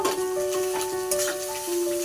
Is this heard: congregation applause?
no